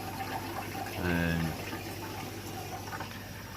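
Water flows steadily and continuously into a koi fry tank at a farm, a constant broadband rush that holds throughout, with a brief louder gush near the middle.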